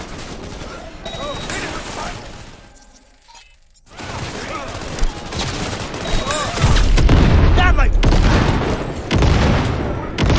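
Explosions and bursts of gunfire from a Cyberpunk 2077 firefight hammer close and loud, with rapid volleys, heavy booms and shattering debris building to a dense climax, briefly dipping in the middle.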